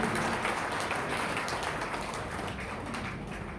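An audience at a Hindi poetry gathering claps continuously, a dense wash of many hands at steady loudness that eases off slightly toward the end.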